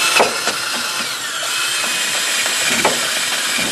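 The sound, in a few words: drill with wire wheel cleaning metal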